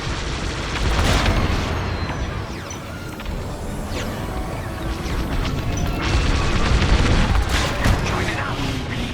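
Starfighter laser fire and explosions in Star Wars: Squadrons as a rebel squad attacks shuttles, dense bursts of blasts and booms over a rumbling engine bed, loud and busy throughout.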